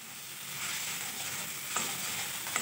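Food frying in a covered pan with turmeric, a soft steady sizzle with a couple of faint clicks, no talking.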